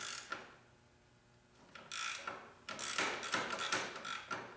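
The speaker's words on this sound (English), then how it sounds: "So now we'll just tighten up our bolt here." A wrench ratchets as a 14 millimeter bolt with a lock washer is tightened, giving quiet, close clicking bursts with short pauses between strokes.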